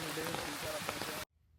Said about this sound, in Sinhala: මේ වහින වැස්සත් එක්ක